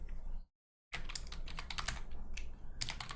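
Rapid keystrokes on a computer keyboard while working in an Ubuntu terminal with tab completion, a steady clatter of close, crisp clicks with a brief silent gap near the start.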